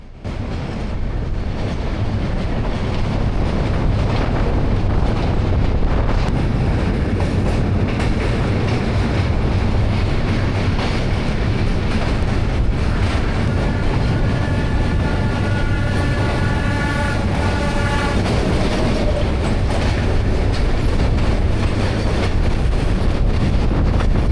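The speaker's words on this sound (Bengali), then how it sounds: "আমাদের ট্রেন যাত্রা শুরু করলো ইংরেজ আমলে পদ্মা নদীর উপর নির্মিত বিখ্যাত হার্ডিঞ্জ ব্রিজের উপর দিয়ে" A train rolls across the Hardinge Bridge over the Padma river in Bangladesh, a loud, continuous rumble with rhythmic clickety-clack and wind buffeting throughout.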